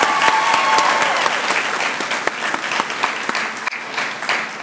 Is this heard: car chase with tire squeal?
no